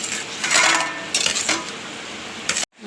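Chicken fried rice being stirred in a pot, with a few bursts of metallic scraping and clatter from the spoon against the pot, close and fairly loud, ending abruptly.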